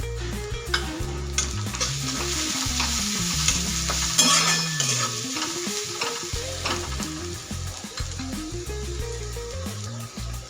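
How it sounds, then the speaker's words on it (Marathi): Ridge gourd and green chilli sautéing in hot oil, loud continuous sizzling with a spatula stirring and scraping against the pan throughout, close up and with no talking. "ती पण तेलामध्ये ना छान अशी परतून घ्यायची"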